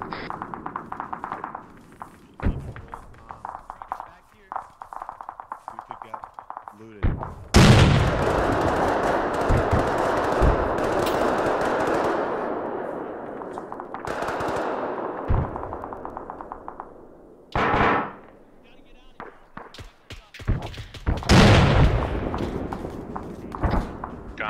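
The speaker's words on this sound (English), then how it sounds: "Taking fire from the rear." Arma 3 combat with sustained, loud automatic gunfire in long rattling stretches, broken by sharp single shots, footsteps and quieter gaps, with nearby bursts and more distant fire.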